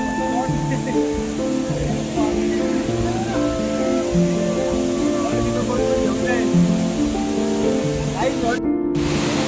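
A hidden waterfall in Badlapur during the monsoon rains roars as a steady, dense wash of falling water close by, with people talking and shouting over it throughout.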